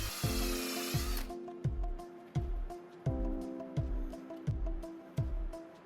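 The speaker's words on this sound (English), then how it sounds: "Their positions were marked and pre-drilled with an undersized drill bit." A drill whirs briefly while pre-drilling undersized pilot holes in wood for a twin screw vise on a workbench, then a rhythmic series of short, heavy knocks repeats about every half second, close and resonant like working wood.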